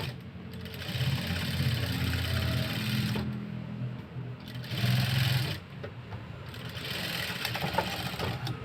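A sewing machine stitches lining onto a peeping-style blouse, its steady motor whir running close and loud in long bursts with short pauses between them.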